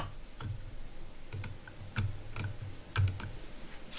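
Rapid keystrokes on a computer keyboard during CAD modelling of a screw-on dome for a Mason jar firefly light, with scattered clicks in short uneven bursts, a few sharper taps standing out over a low background hum.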